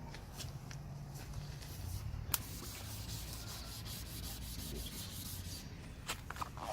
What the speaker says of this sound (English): As you can see, we've already begun sanding